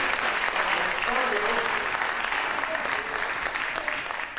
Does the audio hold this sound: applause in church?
yes